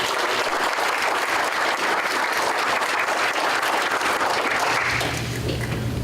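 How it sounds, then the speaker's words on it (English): An audience at an economic summit applauds, a continuous loud wash of clapping from many hands that stays steady before easing slightly near the end. "Let's give them a round of applause."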